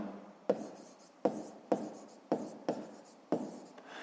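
Pen or pencil strokes on paper during a fifth-grade maths exercise, six distinct scratchy marks spaced irregularly over a few seconds, close and quiet, no talk.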